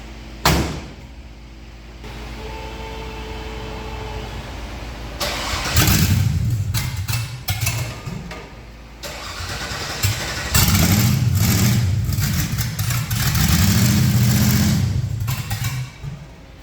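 The Fatsun project car's engine cranks, catches and starts, then idles roughly and revs in loud surges, with door and mechanical clunks around the start and no talking.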